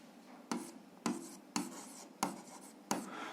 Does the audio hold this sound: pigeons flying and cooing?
no